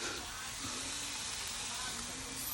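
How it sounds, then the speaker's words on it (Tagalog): Food sautéing in a pan gives a steady, soft sizzle and hiss, faint and continuous, with a low voice faintly in the background. "gigisain lang natin."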